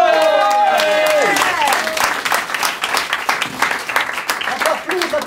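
Audience applause at an improvised TV-style evening show at a Paris improv festival: dense, sustained clapping from a crowd, with a voice speaking over the opening seconds.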